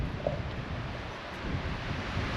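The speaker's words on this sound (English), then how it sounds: "Oh Jesus, that wind is strong." Strong outdoor wind gusting steadily across the microphone, a continuous loud rumbling buffet with no speech, heard while rummaging through old rusty car parts outdoors.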